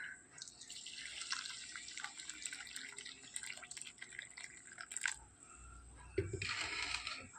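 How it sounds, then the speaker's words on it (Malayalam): Boiling water poured onto washed fenugreek seeds in a bowl gives a faint, close trickle with scattered drips and small splashes, a little louder near the end. "ഇനി നമുക്കിതിലേക്ക് കുറച്ച് തിളച്ച വെള്ളം ചേർത്ത് കൊടുക്കാം"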